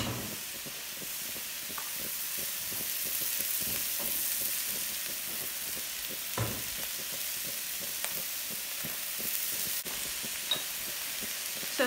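Onion and peppers sizzle in olive oil in a pan, a steady close frying hiss with scattered pops and crackles lasting throughout.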